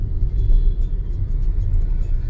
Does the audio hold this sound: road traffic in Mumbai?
yes